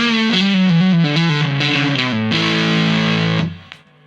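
An electric guitar played through a distortion pedal on a pedalboard rings out in loud, gritty sustained notes and shifting chords, ending in a held chord that fades away, with no talking.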